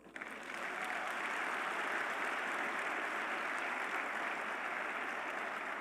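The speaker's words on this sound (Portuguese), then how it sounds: "Então dá um aplauso a ele." A church congregation breaks into dense, sustained applause, a steady wash of many hands that swells within the first half second and holds evenly throughout.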